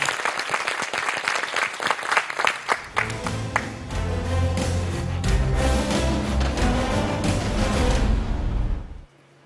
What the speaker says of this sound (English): Thank you very much, Marcelo, and a round of applause